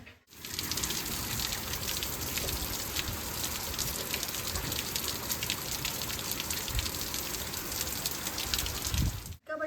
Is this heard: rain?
yes